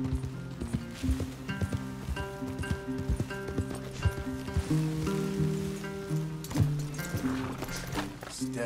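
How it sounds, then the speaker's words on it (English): Horses walking in Red Dead Redemption 2, a steady clip-clop of hooves close by with an irregular rhythm, accompanied by a low musical drone and no talking. "Leave the horses in the trees there."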